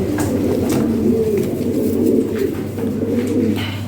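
Several pigeons on a pigeon farm coo nearby in low, continuous, overlapping throaty calls that carry through the whole stretch.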